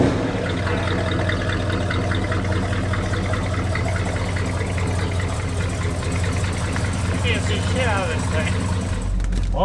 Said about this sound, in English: it sounds peppery on free rev